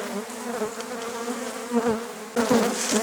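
Agitated honey bees buzz loudly and steadily close by during hive work without smoke, a dense droning hum with several bees swelling nearer toward the end.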